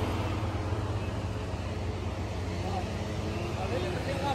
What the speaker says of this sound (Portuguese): O caminhão tá barulhando do lado aqui